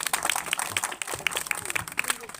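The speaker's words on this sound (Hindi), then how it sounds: "एक बार मनोज पटेल के सम्मान में जोरदार तालियां बजाइए" Applause from an audience at a Hindi poetry recital, a steady patter of many hands clapping throughout at moderate level, with a voice briefly audible over it.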